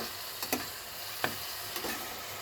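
Two pieces of hilsa fish fry quietly in a pan with a soft, continuous sizzle, marked by a few faint clicks and taps.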